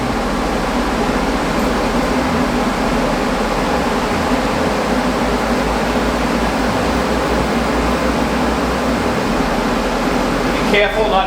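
A powder coating spray gun hisses continuously and loudly while coating a motorcycle frame in a shop, a steady broadband rush of air that lasts the whole time.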